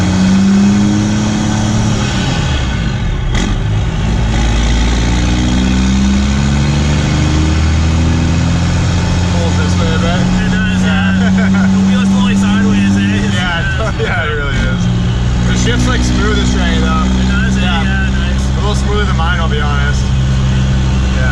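First-generation Cummins truck with a Borg Warner HX35 turbo and 4-inch downpipe and exhaust, its engine droning and revving loudly while a turbo whistle rises and falls over it, with people talking inside.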